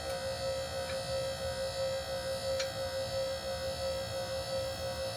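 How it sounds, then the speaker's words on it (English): A steady mechanical hum with a constant whining tone drones on without pause as the hydraulic pump of a VEVOR portable 9000 lb car lift raises it under load. "Hydraulics are going up."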